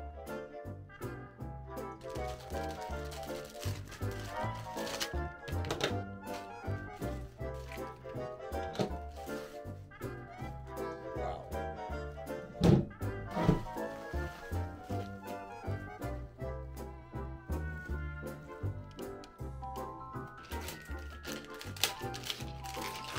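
Cardboard and packaging handled while unboxing a FlightSimBuilder GNS530 flight-sim cockpit accessory, with scattered taps, thunks and rustles under steady background music, one sharper knock near the middle.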